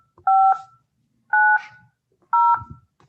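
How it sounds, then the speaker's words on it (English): Three separate touch-tone keypad presses from a telephone, each a short two-pitch DTMF beep of about a quarter second, spaced roughly a second apart, loud and clean with no talking over them. "Please dial the 7-digit phone number of the person you wish to speak with."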